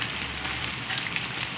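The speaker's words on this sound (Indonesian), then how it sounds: "Ya teman-teman, sekarang bakwannya lagi saya goreng." Bakwan vegetable fritters frying in hot oil, a steady close hiss and crackle of sizzling without pause for the short stretch.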